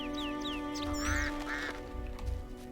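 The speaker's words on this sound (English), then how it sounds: "Oh, geese." Geese in The Witcher video game honk repeatedly in quick, nasal calls, loud and close over a steady droning ambient hum in a rural field setting.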